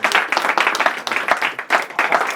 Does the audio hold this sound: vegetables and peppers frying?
no